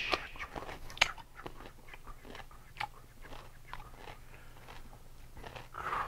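A crunchy pickle is bitten and chewed up close, with a few sharp crisp crunches followed by steady wet chewing and smaller crackles, no talking.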